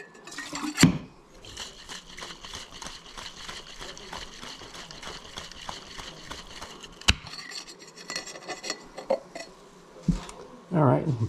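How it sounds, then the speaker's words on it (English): A cocktail shaker for a bamboo punch is dry shaken without ice, giving a rapid, rhythmic rattling and rubbing of liquid against metal for several seconds, with a few louder knocks and handling clunks at the start and end. "so I'm going to dry shake this"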